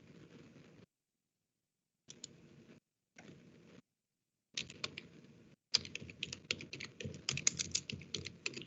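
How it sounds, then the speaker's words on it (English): Computer keyboard typing in short bursts separated by pauses, close and clear, growing denser and faster toward the end, with no voices. "I'll type it."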